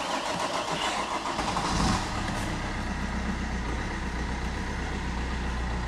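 A car engine cranks and catches, a rough starter burst that settles into a steady, loud idle hum lasting several seconds, close to the microphone.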